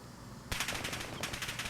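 An AK-47 assault rifle fires in Call of Duty: Modern Warfare (2019), a sudden loud burst of rapid automatic shots in an even rhythm that runs to the end, with no talking.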